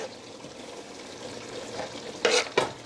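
Onion and sweet pepper fry in a pot with tomato, giving a soft, steady sizzle that rises slightly. Two sharp stirring scrapes come near the end, close by.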